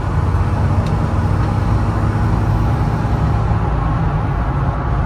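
A 2006 Ford F-350 FX4 Lariat with a 6.0L Powerstroke diesel kicks down and accelerates, a steady deep drone and road rumble heard from inside the cab, loud and constant.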